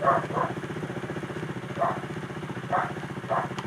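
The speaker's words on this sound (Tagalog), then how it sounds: "pag i-rev natin, walang response yung kanyang throttle" KTM Duke 390 motorcycle with a ride-by-wire fault ticks over at idle with a steady pulsing beat. Several short rises in engine tone come through, and none of them builds into a proper rev.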